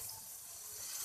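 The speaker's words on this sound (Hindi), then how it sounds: "हल्का सा पानी का छींटा लगाऊंगी" Brief steady hiss of dry spices sizzling as a small splash of water hits the hot pan during cooking of a turnip and spinach curry, soft and close.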